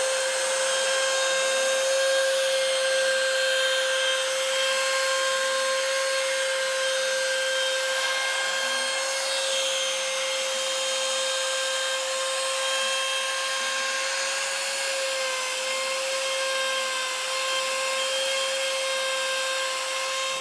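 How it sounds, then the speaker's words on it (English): CNC router cutting a control cavity into the back of a zebrawood guitar body, giving a steady high-pitched spindle whine with continuous cutting noise for about twenty seconds, close and without speech. "I've loaded the body back up on the CNC, but I flipped it over. Got the control cavity loaded up in the easel. Let's cut it out"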